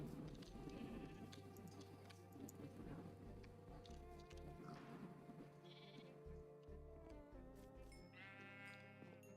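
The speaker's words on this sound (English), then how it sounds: "First baby sheep all game." Sheep in the Minecraft video game bleat several times over faint game sounds and background music, with a distinct, wavering bleat near the end.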